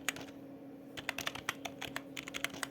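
Computer keyboard clicks as Java code is typed, a quiet run of crisp keystrokes in quick uneven bursts over a low steady hum, with no talking.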